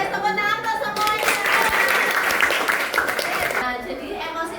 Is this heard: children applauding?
yes